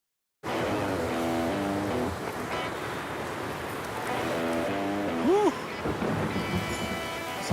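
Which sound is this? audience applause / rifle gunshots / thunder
thunder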